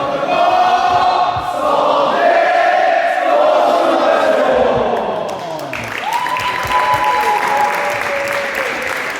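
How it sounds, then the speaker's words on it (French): An audience at a prize-giving ceremony applauds loudly and steadily for several seconds, a dense wash of clapping with some cheering mixed in throughout. "on peut les applaudir"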